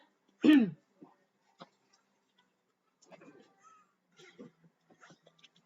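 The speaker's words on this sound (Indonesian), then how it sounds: "aku batuknya luar biasa buruknya" One sharp, harsh cough or throat clear near the start, followed by faint clicks and scattered soft speech-like sounds.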